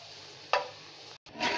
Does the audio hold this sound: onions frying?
yes